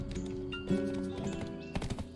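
Horse hooves clip-clop steadily in the Black Desert video game as a mount is ridden into a stall, a quiet, even walking rhythm with no talk.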